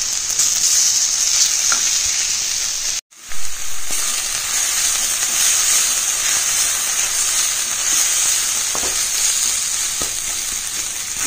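Masala sizzling and frying in a kadai with turmeric and chili powder for kadai mushroom, a steady loud hiss with occasional stirring scrapes and a brief dropout partway through.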